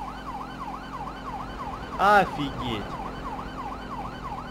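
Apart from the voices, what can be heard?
siren in video game Grand Theft Auto 5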